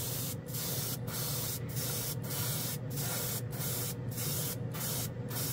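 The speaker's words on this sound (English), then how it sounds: "It atomizes the paint good because it hasn't moved in the cup." Steady, close hiss of a Harbor Freight Avanti airbrush atomizing paint, continuous and even, broken by about nine brief regular gaps where the spray stops for an instant.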